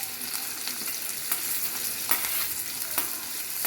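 Onion, green chili, curry leaves and mint sauté in hot oil in a home kitchen, giving a steady close sizzle broken by regular scraping stirs of the pan.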